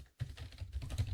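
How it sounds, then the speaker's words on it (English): Rapid, close clicks of keys on a computer keyboard rattle out in a steady burst after a brief pause, with no voice over them. "excuse my typing"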